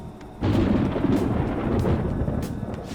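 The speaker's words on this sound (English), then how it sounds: "It sounds like it's going to rain." A deep rumble of thunder breaks in suddenly and rolls on heavily before rain in Persona 5 Royal, loud and sustained with no voices.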